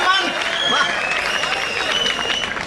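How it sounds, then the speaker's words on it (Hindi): A student crowd at a comedy and poetry show at Delhi University applauds, giving a continuous wash of clapping mixed with cheering voices and whistle-like tones throughout the short burst. "ताली जोरदार बजाइए आप लोग।"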